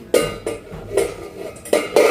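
A heavy brass kadai being handled in a home kitchen, with several short metallic clanks and scrapes spaced irregularly, close and moderately loud, no talking.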